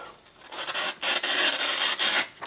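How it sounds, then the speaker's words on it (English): A CRKT Ripple K415KXP knife blade with a hollow ground edge slices through material in a sharpness test, giving a few close, crisp rasping strokes separated by brief pauses. "Let's go ahead and give it a cut test on the sharpness out of the box."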